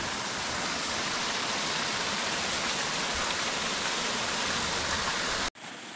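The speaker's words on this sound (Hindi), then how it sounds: "ये है यार अपना रनघाट वाटरफॉल" Ranghagh waterfall pouring over a rocky riverbed with large boulders, a dense, steady, close roar of rushing water that cuts off abruptly near the end.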